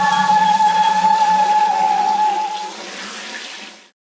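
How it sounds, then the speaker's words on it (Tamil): Water poured steadily from a pot in a close, continuous gush that holds level for several seconds, then trails off and stops. "இந்திரா, அந்த குடத்தை எடுத்து நீ ஊத்துப்பா"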